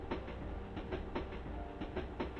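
Train carriage wheels clicking over rail joints in a steady clickety-clack rhythm, about two beats per second, faint and continuous with a low rumble underneath.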